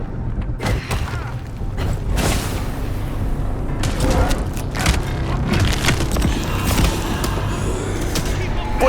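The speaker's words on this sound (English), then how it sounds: "Shotguns are annoying." Shotgun blasts and mechanical clatter in the video game Vampire: The Masquerade – Bloodlines 2, with loud booming shots under a dense, busy in-game soundscape.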